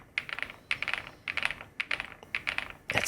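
Bursts of typing on an Epomaker Galaxy100 mechanical keyboard, close and crisp, with rapid clacking keystrokes in several short runs separated by brief pauses, and no voices.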